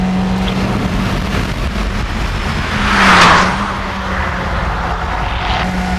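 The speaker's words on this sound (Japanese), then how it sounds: "さあ、それではクリアラップを一周取って全開で走ってみましょう。" A Nissan Pulsar GTi-R driven flat out around a circuit lap, its engine a steady, loud drone heard from inside the car, swelling briefly midway and then settling, with no talking.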